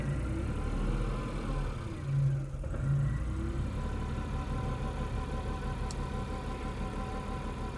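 A Renault Twingo engine with a camshaft position fault idling steadily with a low, even rumble that rises briefly once, then settles back to a constant hum.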